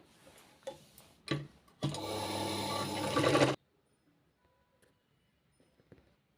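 A sewing machine stitches the sleeve of a blouse at a half-inch seam, running in one steady, loud burst of close whirring after a few short starts and clicks, then stopping, with quiet afterward.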